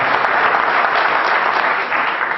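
Dense applause from an audience at a Hindi poetry recital, a steady rush of many hands clapping at even loudness for the whole stretch.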